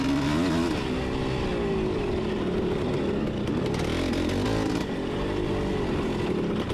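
A dirt bike engine roars loud and close throughout a lap of a cross-country motocross race in the woods at Quiet Oaks, revving and shifting continuously without pause.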